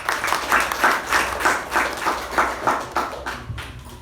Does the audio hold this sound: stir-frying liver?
no